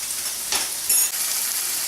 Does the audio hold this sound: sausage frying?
yes